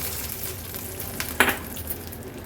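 A hot tempering of mustard seeds, curry leaves and dry red chilli is poured onto buttermilk, giving a steady crackle and one sharp sizzling burst midway, close and fairly loud.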